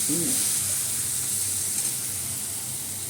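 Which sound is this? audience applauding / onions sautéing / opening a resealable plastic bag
onions sautéing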